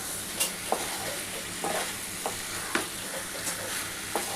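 Prawns and potato sizzle and fry in spice masala in a pan, with a spatula scraping and stirring in steady, repeated strokes, close and moderately loud.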